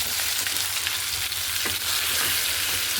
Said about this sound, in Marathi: आपली मी जे वाटण आपण करून घेतलेलं आहे ते टाकायचं छान हलवून घेऊ आपल्याला